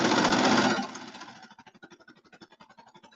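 A serger runs through the lining fabric of a bomber jacket, opening with a loud dense burst and then settling into a fast, even rhythmic stitching pulse, close by with no talk.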